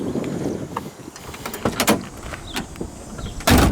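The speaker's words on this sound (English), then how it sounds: "The doors open and close really nicely." Door of a 1966 Ford Fairlane worked open and shut, with a series of short mechanical clicks and thumps, ending in a louder close near the end.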